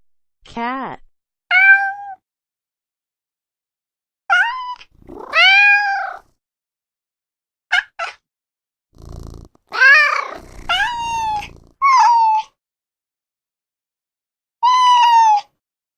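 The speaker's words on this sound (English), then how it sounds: "Cat." A cat meows in a string of separate, drawn-out calls with pauses between them, some rising and some wavering like caterwauling, clear and close.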